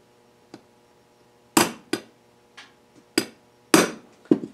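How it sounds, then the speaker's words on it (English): A hammer strikes a center punch to mark metal parts for a small DIY steam engine, with about seven sharp metallic taps of varying force, irregularly spaced and close, each ringing briefly. "Now I've got to do the punch mark thing on these."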